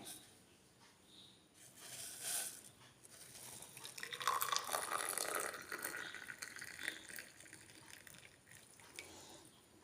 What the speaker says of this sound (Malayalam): നമുക്ക് ഈ ഗ്ലാസ്സിലേക്ക് ചൂടുവെള്ളം പകരാം